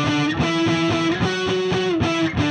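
An electric guitar runs through the Line 6 HX Teemah! overdrive model with bass and treble fully off, giving a sustained distorted chord with several quick rhythmic re-strums, loud and upfront with no talking.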